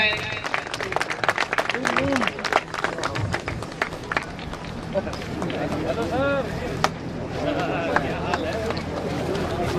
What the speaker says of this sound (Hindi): जोरदार जोरदार तालियां बजाएं